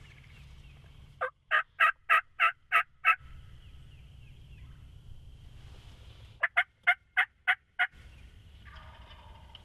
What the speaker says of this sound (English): There's 2 gobblers, sounds like, coming through the timber to our left.